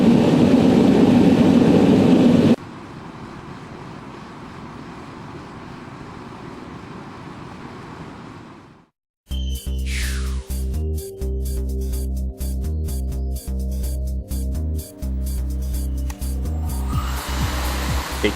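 A VAL 6 radiant heater runs with near perfect combustion, giving a steady, fairly quiet broadband hum. It follows a louder roaring burst and gives way to a louder, buzzing mechanical drone.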